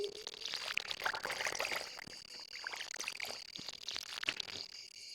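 Crops on a video game farm get watered, with splashy pouring and trickling bursts in quick succession, close and moderately loud.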